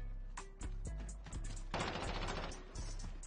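Rapid gunfire bursts in the Call of Duty video game, a run of sharp close shots that stops and starts before a denser, louder volley in the second half, with no talking.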